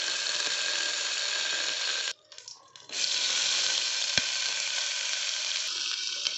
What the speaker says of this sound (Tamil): லைட்டாக பொரிஞ்சதும் கருவேப்பிலை போட்டுக்கலாம்.